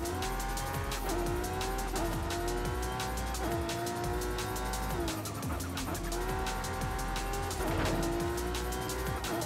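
A 2JZ-powered Jaguar E-Type in Forza Horizon 5 slides through a drift, its tires squealing in long wavering sweeps over a steady, loud engine roar that rises and falls with each slide.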